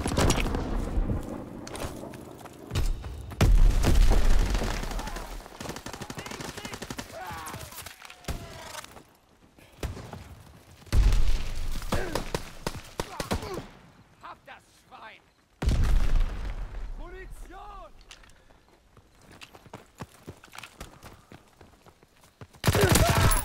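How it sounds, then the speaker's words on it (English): Bombing-run explosions and gunfire in Call of Duty: WW2 multiplayer, loud booming blasts and bursts of fire arriving in several heavy waves with quieter gaps between them, and radio-style voice callouts mixed in. "Six-X bombing mission ready. Bombing six-X bomb."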